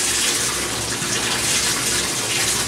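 Warm water gushing steadily from a tap into a bathtub for a yellow Labrador's paw allergy soak, a loud, even splashing rush that fills the whole stretch without talk.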